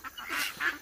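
A guinea fowl gives two quick, harsh honking calls, close and moderately loud, in a short burst with no one speaking.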